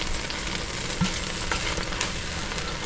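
Sofrito frying in a pot for Caribbean-style stew beef, giving a steady close sizzle with faint crackle throughout and one brief clink partway through, with no voices.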